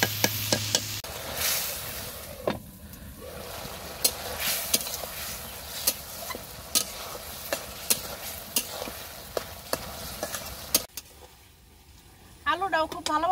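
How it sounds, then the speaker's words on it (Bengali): Potatoes stir-fried in a pan, soft continuous sizzling under repeated sharp scrapes and knocks of a utensil against the pan, fairly quiet, with a brief voice near the end. "আলুটা ভালোভাবে একটু কষিয়ে নেই।"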